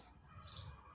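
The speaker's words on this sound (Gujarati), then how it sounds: "ચકલા જો પાણી પીવી" A sparrow chirps once, faint and brief, through a quiet outdoor background while it comes to drink water.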